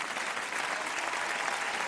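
Studio audience at a French prime-time TV variety show applauding, a dense, loud, continuous wash of clapping filling the whole stretch with no voices over it.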